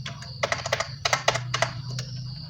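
Quick, crisp keystrokes on a computer keyboard tap out a short word in a tight cluster of close clicks over a low steady hum, with no speech.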